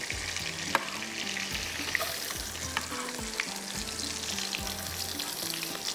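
Garlic fries in a pan with cooked chicken, giving a steady close-up sizzle with occasional sharp pops and faint stirring scrapes under the crackle.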